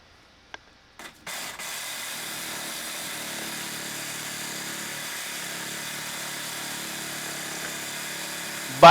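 A saw cuts through PVC drain pipe during an upflush toilet install. A couple of sharp knocks come first, then a continuous, even, moderately loud buzzing grind runs to the end with no talking.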